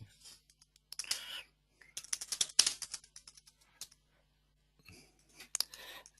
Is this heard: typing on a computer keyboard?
yes